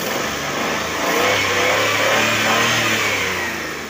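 A car engine runs after its silencer leak was tightened and repaired, giving a steady, smooth exhaust drone that rises gently as it revs slightly mid-clip, close and alone without any talk.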